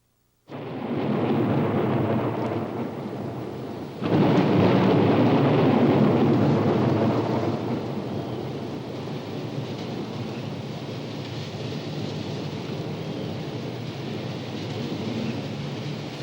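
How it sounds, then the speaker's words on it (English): Heavy rain pours steadily over a lofty Blue Ridge mountain peak while a loud roll of thunder breaks in early and rumbles away. The downpour keeps hissing after the rumble fades. "The sky opens and raindrops drench a lofty Blue Ridge mountain peak."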